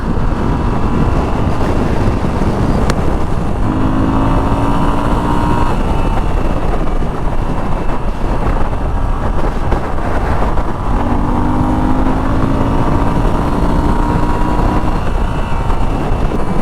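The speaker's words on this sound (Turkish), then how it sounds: "hatırı sayılır bir miktar rüzgara maruz kalıyoruz" Constant heavy wind buffeting roars over the microphone while riding a Moto Guzzi V7 Stone motorcycle, with the motor droning faintly underneath, rising in pitch twice.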